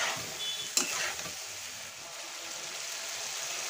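Guava pickle cooking in a pan over medium heat while being stirred, a continuous soft sizzle with one sharp clatter near the start, close and alone.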